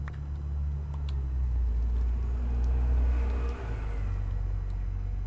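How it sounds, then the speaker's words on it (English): A loud bus rumbles past outside with a deep, steady low-end engine drone that swells and then eases, with faint hiss and clicks above it. "Hooray for loud buses!"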